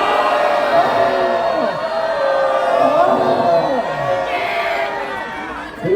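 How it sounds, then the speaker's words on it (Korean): Outside a party headquarters at a protest press conference, a crowd roars together in a sustained loud chant, many overlapping shouting voices rising and falling in waves close to the microphone. "그래서 여기서 함성 한번 하겠습니다"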